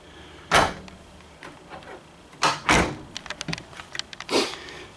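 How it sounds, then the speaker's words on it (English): A sliding bunk room door in a 2023 Cougar 2700BH travel trailer rolls and bumps shut in a few short, close knocks and thuds with quiet pauses between, no talking. "In the back, you have a sliding door for your bunk room"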